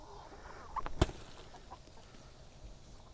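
Chickens on a farm cluck briefly while pecking at watermelon on a hot day, a few soft, close calls over a quiet outdoor background.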